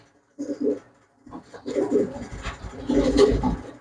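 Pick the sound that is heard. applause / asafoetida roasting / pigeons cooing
pigeons cooing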